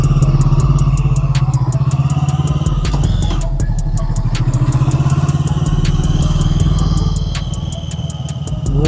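An FKM motorcycle engine on a test ride in the Philippines, a loud, steady, close-up rumble with a rapid pulsing beat that holds throughout, dipping slightly near the end.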